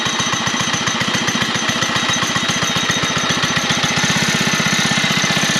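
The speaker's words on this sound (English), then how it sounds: "Alright, so after you start it, put that to run." A Baja Doodlebug mini bike engine runs just after starting, a loud, steady, rapid putter that holds the same even rhythm throughout, close by and with no talk.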